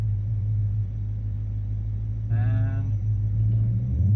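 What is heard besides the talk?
drag racing car launching off the line at the track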